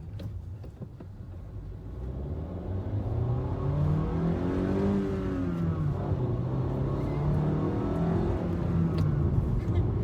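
A 2018 Honda Fit Sport engine revs up to about 4,000 RPM, rising to a sustained loud whir with a smooth climbing and easing pitch, heard close and alone.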